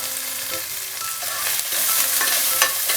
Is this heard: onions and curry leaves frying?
yes